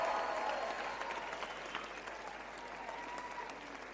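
A church congregation in Cape Town applauding during a sermon, a broad, steady roar of clapping from a large crowd heard at some distance, fading slightly toward the end, with a faint voice and murmur beneath.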